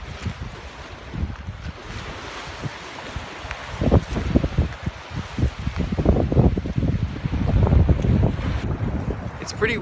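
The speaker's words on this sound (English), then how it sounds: "It's pretty windy this morning" Strong wind on an early-morning beach buffets the microphone with loud gusty rumbling, building stronger in the second half, with surf washing faintly behind it.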